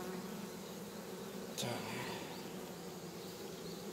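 A honeybee colony hums steadily during a hive inspection, with a dense continuous buzz and a single louder bee passing close partway through, and no speech over it.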